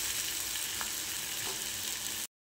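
Steady close sizzling and frying of a potato and spice mixture in a pan as water goes in, a continuous broadband hiss with a couple of faint clinks before it cuts off.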